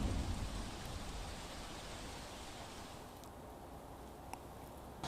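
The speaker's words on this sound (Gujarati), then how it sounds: "સુરત શહેરમાં જે રીતે મોડી રાતથી અવિરતપણે વરસાદ વરસી રહ્યો છે" Heavy rain pours steadily over Surat after falling nonstop since late night, a dense, even hiss that holds throughout, with no voices.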